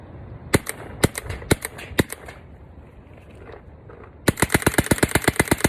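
A restored WGP Black Magic Autococker paintball marker fires sharp, close pops: a few spaced single shots, a pause, then a fast, even string of rapid shots.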